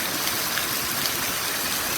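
A river flows steadily at a breakfast spot, giving a continuous broadband rush of moving water with no voices heard.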